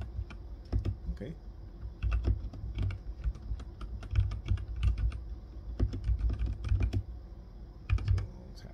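Clattering keystrokes on a computer keyboard in quick irregular bursts, close and fairly quiet, with a low hum underneath and no speech.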